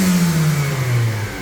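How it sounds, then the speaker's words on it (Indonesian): Motorcycle engine fitted with a Blackcore expander revving loudly up close, a strong throaty rise that sags and drops back off toward the end, with nothing else heard. "Ini lalu dilanjut lagi setelah digas kira-kira 10 kali."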